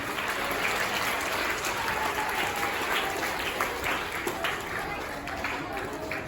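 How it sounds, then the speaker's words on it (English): Audience applause for children performing at a Children's Day event, steady dense clapping throughout with crowd noise and a voice faintly audible underneath, moderately distant. "Give them a big round of applause."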